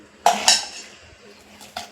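A spoon stirring banana shikarni, a sweet banana dessert, in a bowl gives two sharp clinks close together, then quiet scraping and one last clink, with no talking.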